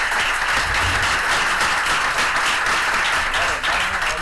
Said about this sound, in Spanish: les pediría un aplauso para los ponentes